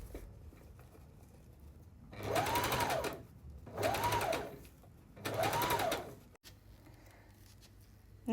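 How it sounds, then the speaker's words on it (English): A sewing machine stitching the lining of a blouse armhole facing runs in three separate bursts of about a second each, with short quiet pauses between them and a faint click near the end. "Pay attention to not sew anything else underneath, just your lining."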